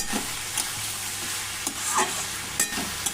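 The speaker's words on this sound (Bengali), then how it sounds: "তার আগে আমি লঙ্কা হলুদ আর রসুনগুলোকে খুব ভালো করে কষিয়ে নেব" Vegetables sautéed with chili, turmeric and garlic in a pan for a Bengali shrimp chorchori, giving a steady close sizzle broken by a few soft stirring scrapes, with no talk.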